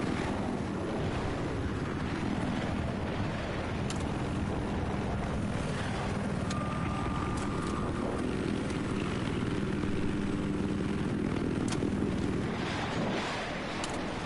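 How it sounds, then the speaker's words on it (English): In Battlefield 4, a helicopter churns through a continuous loud rotor and engine drone mixed with wind-like rumble and scattered game effects, with no talking. "Oh, there's a helicopter over Delta."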